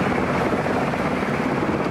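A helicopter carrying casualties to a military trauma unit beats loudly and steadily, a dense close rotor roar that fills the whole stretch with no voices over it.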